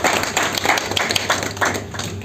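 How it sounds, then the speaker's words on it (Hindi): An audience claps at a business event in Agra, a scattered burst of hand claps that swells briefly and then fades over a noisy hall background. "एक बार जोरदार ताली बजाइए।"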